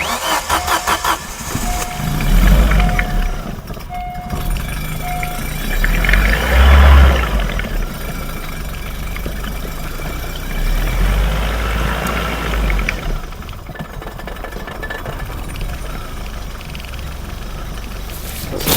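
A car engine being started and left running, with water poured into it: it cranks and catches, revs loudly a couple of times, then settles into a steady close idle for the rest of the clip.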